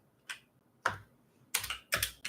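Keys on a computer keyboard are struck in a short, sparse burst of about five crisp, close taps with quiet gaps between them, and nothing else is heard.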